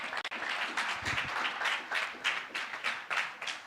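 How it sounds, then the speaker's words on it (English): A round of applause from an audience at a youth consultation, steady dense clapping with a rhythmic swell, sustained and moderately close. "I really think we can give a greater round of applause for that."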